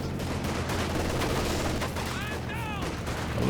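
A machine gun in the Company of Heroes 2 video game fires steadily amid heavy battle noise, with a voice speaking briefly over the sustained gunfire.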